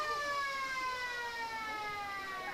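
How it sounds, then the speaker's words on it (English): A steady, sustained siren sounds the end of an Australian football game, a constant tonal blare over faint crowd noise. "Josh Walsh makes the tackle as the siren goes to end the game."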